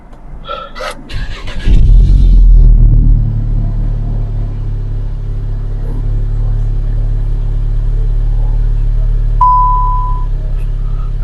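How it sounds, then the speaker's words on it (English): A car with a newly installed Racingline turbo muffler cold-starts with a quick crank and catches into a loud burst, then settles into a steady low idle rumble. A short electronic beep sounds near the end. "This is a cold start"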